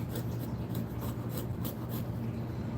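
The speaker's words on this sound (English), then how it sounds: "I'm like using it like a knife, using the hatchet like a knife" A hatchet used like a knife shaves small curls from soft wood, producing quiet, repeated scraping and rasping strokes close by, with a low background hum throughout.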